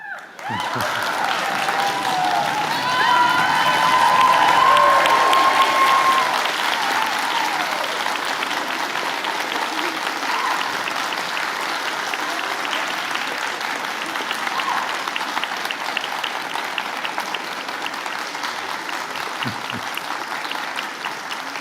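A convocation audience at a 2023 university graduation claps and cheers loudly, a dense sustained roar of applause with whoops and some voices mixed in, holding steady for over twenty seconds.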